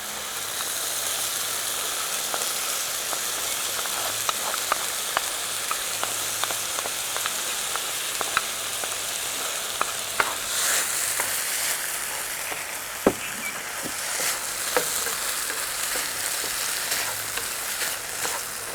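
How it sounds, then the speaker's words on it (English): Long grain rice stirred in a pot with seasoned reserve juice and vegetable stock, a constant bubbling sizzle broken by occasional sharp scrapes and clicks of a utensil against the pot. "Coat the rice well with the seasonings from the reserve juice."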